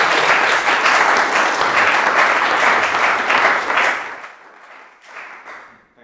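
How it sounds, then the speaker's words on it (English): An audience at an inspirational talk event applauds loudly in a dense, sustained burst of clapping that fades away over the last couple of seconds. "just a round of applause for Mr. Cook."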